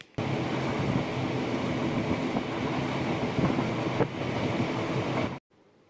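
A Coimbatore-Tiruchendur passenger train runs along the track with a loud, continuous rumbling roar and faint rhythmic clatter, cutting off abruptly near the end.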